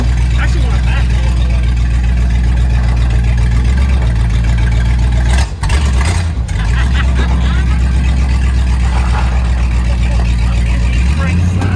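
A converted truck, rebuilt as a Blazer-style hot rod, rumbles with a loud low engine drone while backing up, with a brief dip midway before the steady throb resumes.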